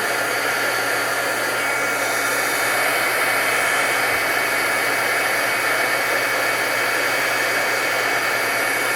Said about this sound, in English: And then you just take your heat gun.